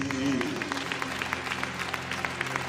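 A church congregation applauds during a French-language worship service, scattered claps rising over a low sustained musical drone, moderately loud and fairly close throughout.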